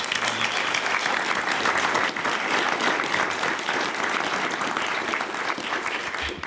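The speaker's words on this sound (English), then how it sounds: "How about a big round of applause for them?" A full room of attendees at an anti-crime summit held at AB Tech applauds sheriff's deputies, a steady, dense wash of clapping that stays loud and unbroken throughout, with no voices on top.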